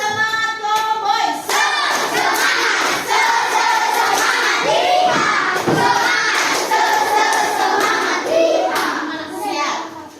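Schoolchildren in a classroom perform the 'tepuk semangat cowboy' clapping chant, with loud, rhythmic group clapping and sung chanting voices running continuously throughout.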